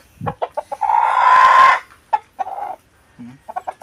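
Rhode Island Red chickens cluck in a quick run of short calls, with a rooster-like drawn-out crow in the middle and a few more clucks after; close and clear, no talking.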